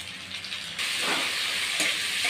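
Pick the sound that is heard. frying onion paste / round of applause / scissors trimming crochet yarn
frying onion paste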